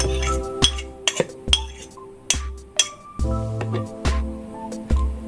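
Kefir grains dropped into fresh colostrum in a glass jar make several close, sharp glassy clinks with a brief ringing tail, spaced irregularly.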